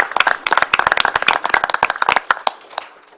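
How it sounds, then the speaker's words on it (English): A small crowd at a town council meeting claps, with sharp, distinct handclaps at close range in a brisk, uneven patter that thins out and stops after about three seconds. "let's give them a round of applause"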